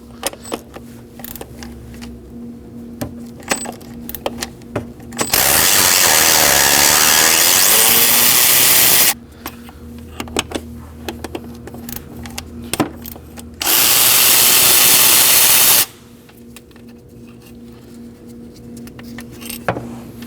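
A power tool zips bolts out of a 2011-2016 Kia Optima engine bay, throttle body area. It gives two long, loud, steady bursts of roughly four and two seconds, with quiet handling and clinks before, between and after.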